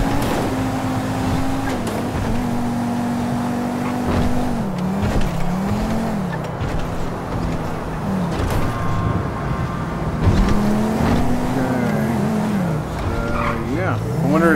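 Racing cars in GTA V Online: continuous loud engine drone with revving pitch swings as gears shift, occasional tire squeals, and a voice talking over the game sounds.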